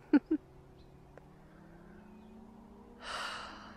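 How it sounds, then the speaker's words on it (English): Distant car traffic drones low and steady outdoors, swelling slightly as a vehicle passes far off, with a couple of short breathy sniffs up front and a soft rustle of noise near the end. "And the cars in the distance?"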